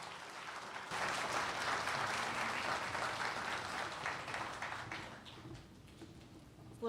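Audience at a naval history symposium applauds to welcome a speaker to the stage, clapping starts abruptly, stays full and steady for several seconds, then thins and tapers off.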